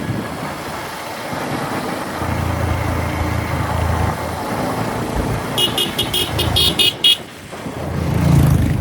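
A motorcycle rides a mountain highway, its engine and wind roar steady and loud, while a burst of rapid vehicle horn beeps sounds near the end.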